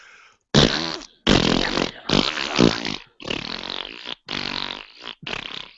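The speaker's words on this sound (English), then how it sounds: "I couldn't pee. I could only fart." During a live improv comedy performance, six loud, drawn-out, raspy fart noises come one after another with short silent gaps, each lasting roughly half a second to a second.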